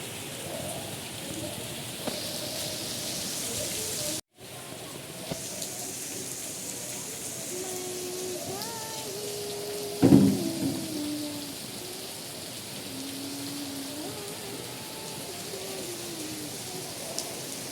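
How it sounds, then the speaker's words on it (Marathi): Steady heavy rain pours down over a Konkan village in the dark of morning, a continuous broadband hiss with a few louder bursts of splashing, and birds calling faintly underneath. "किती पाऊस पडतोय बघा"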